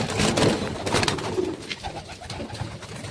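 Pigeons coo close by in a loft, soft throaty rolling calls repeating several times over a low, busy background with no talk.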